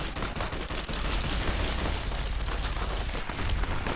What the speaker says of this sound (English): Who's shooting where?